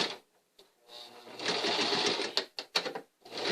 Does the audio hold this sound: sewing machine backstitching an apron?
yes